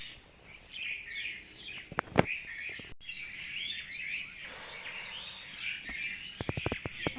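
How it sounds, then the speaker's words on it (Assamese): Birds chirping outdoors at dawn, repeated thin high calls and tweets at a moderate distance over faint insect-like buzzing, with a few sharp knocks nearby. "যিহেতু ৰাতিপুৱা হ'লেই আৰু চৰাই চিৰিকটিৰ মাত ওলাল"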